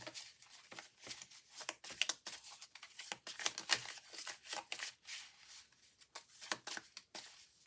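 Tarot cards are shuffled and drawn close by, with quiet, crisp, rapid riffling and flicking in uneven bursts throughout.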